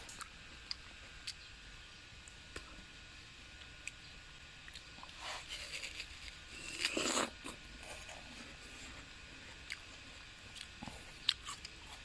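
Quiet, crisp bites and chewing of sandy-fleshed, sweet watermelon, with a brief cluster of crunchy, juicy bites in the middle and scattered soft clicks around it, close to the microphone in a calm room.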